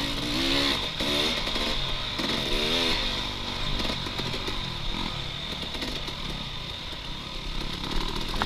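Motocross dirt bikes race on an amateur bike course, their engines droning and revving loudly and continuously, close by and layered with more bikes further off.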